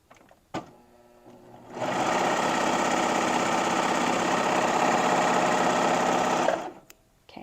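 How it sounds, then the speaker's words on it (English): A serger sewing machine stitches a knit neckband closed in one loud, steady whirring run of about five seconds, starting and stopping cleanly with quiet before and after. "I'm going to serge this closed right here on the end."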